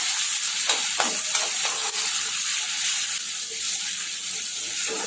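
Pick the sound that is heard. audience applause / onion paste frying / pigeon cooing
onion paste frying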